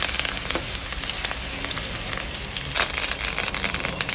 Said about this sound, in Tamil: ஸோ ஃபைனலாக நம்ம கருவேப்பிலையும் அந்த ஹீட்டான ஆயிலில் போட்டாச்சு.